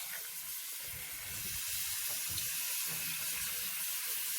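Lukewarm tap water runs steadily into a sink while a baby doll's hair is washed, a continuous close hiss and splash with no voices.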